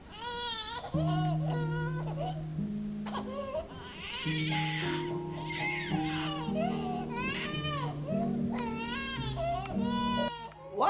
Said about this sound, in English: Why is the baby crying?